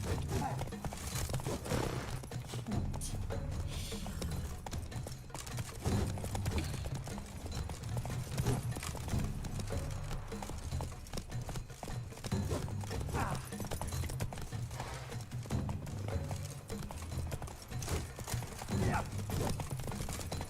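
A horse gallops through The Witcher 3, its hooves drumming in a steady, continuous clip-clop over a busy game soundscape, with occasional speech at low level.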